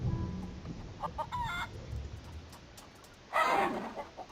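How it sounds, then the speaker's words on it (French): A chicken clucks in the adventure game The Curse of Monkey Island, with a few short squawking clucks early on and a louder, sharper squawk near the end, clear against a quiet game background. "Le poulet devient ouf."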